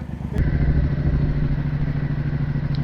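A Triumph Bobber motorcycle's exhaust rumbles loud and close, a steady, throbbing engine note that holds from start to end after a brief quieter opening, with no talking.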